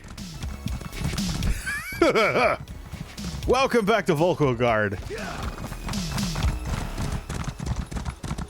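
Horse hooves clip-clop steadily while a horse neighs and whinnies loudly, with a voice talking briefly over the game sounds.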